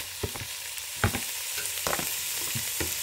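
Sausage and bacon sizzle and crackle in a pot for cowboy stew, a loud, steady fry broken by a few sharp scraping stirs, with no talking.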